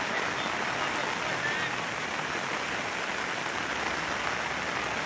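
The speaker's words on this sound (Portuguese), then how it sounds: "E se continuar essa chuva aqui, desta forma, mansa, bastante" Steady, gentle rain falling outdoors during an intense storm in Santa, a dense even hiss of drops on surfaces that holds constant throughout, moderately loud with no distinct voices rising above it.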